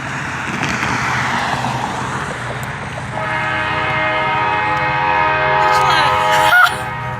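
Freight train rolling along the rails near Broken Bow, Oklahoma, a steady rumble and clatter that builds as a horn blares in a long sustained tone near the end, loud and close.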